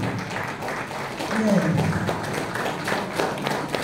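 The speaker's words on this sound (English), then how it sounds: "Keep clapping, keep clapping." Debate audience in Bauchi applauding, a dense patter of many hands clapping continuously at moderate loudness. A voice speaks over the applause and a brief shout rises in the middle.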